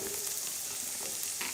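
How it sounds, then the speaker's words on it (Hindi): Chopped onion hitting browned garlic in a hot pan for vegetable chowmein, a steady bright sizzle heard up close and alone for a brief moment. "अब हम इसमें अपनी कटी हुई जो प्याज थी वो डाल देंगे।"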